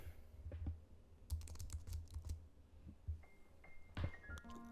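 Fingers tap a non-mechanical computer keyboard in a home studio, quiet close clicks in irregular bursts with short pauses between runs of keystrokes.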